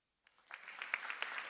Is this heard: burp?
no